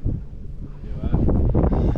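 Strong wind buffets the microphone out on a lake during a hot summer crappie fishing trip, a steady rough roar that swells louder partway through, with people talking underneath.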